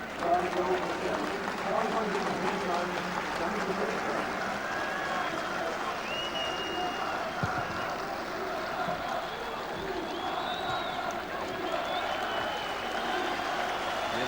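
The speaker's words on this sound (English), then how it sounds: "The round of applause you hear is for Gordon Dalziel, making his way up the track, heading for the tunnel." Spectators at a 1993 Scottish football match between Raith and Kilmarnock give a round of applause as a player walks up the track toward the tunnel, a broad, steady crowd wash heard from a distance beneath continuous commentary.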